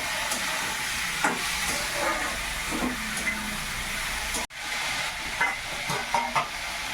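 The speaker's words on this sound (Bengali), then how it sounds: "আলুগুলো দিয়ে দিল কড়াইয়ের মধ্যে, আলুগুলো ভাজা হবে" Potatoes fry in a wok with a steady loud sizzle and hiss, broken by occasional spatula scrapes and stirring knocks, close by, with a brief cut midway.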